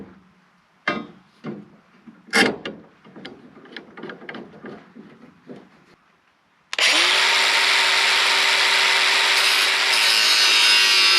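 Wood pieces for pallet-built concealed joist hanger brackets are clamped with a few knocks and clatters, then a loud power saw starts and cuts steadily, its close, sustained roar continuing to the end.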